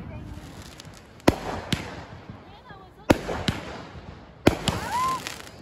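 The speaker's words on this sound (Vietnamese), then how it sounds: "Việt nằm coi pháo hoa nè" Fireworks burst at a Fourth of July celebration, with three sharp, loud bangs, each trailed by crackling and whistling, over background chatter from nearby people.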